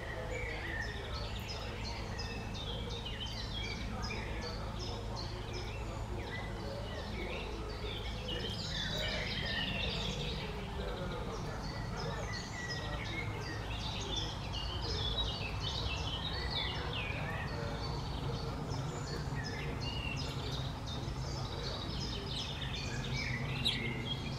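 Tits chirp and twitter around a garden bird feeder, a steady chorus of small calls at moderate distance over a constant low background hum, with no talk.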